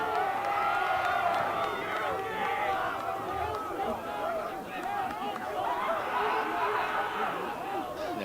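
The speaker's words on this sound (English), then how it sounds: "Crowd for Windham is going crazy right now" Windham fans at a high school boys soccer semi-final cheer and chatter in a steady, dense crowd roar that holds throughout, with whoops rising above the din.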